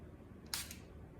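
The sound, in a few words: spritzing makeup setting spray from a small bottle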